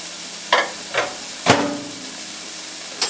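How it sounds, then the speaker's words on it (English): Peppers and onions simmer in a pan with a steady soft sizzle, broken by several sharp clacks of a utensil stirring and tapping the pan, close and without talk. "sort of peppers and onions have been simmering down for about 4 or 5 minutes"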